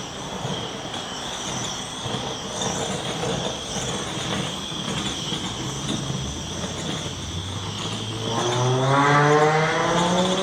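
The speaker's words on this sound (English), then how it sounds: "Car goes by very nearly the same time every day." A car drives past outdoors against a steady background hum, its engine note rising and growing louder near the end as it comes closest.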